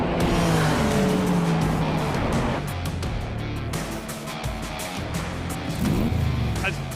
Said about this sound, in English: you cannot deny the symphony of noises from all the different brands of cars here